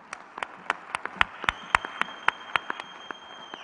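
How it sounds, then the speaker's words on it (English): Sparse clapping from an audience at an afternoon plenary session of a landscape restoration forum in Accra, a handful of separate sharp claps spaced irregularly, fairly faint, with a faint steady tone behind. "a round of applause for yourselves"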